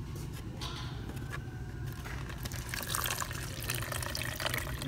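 Herbal tea is poured through a paint strainer, a faint liquid trickle and splash that grows louder toward the end.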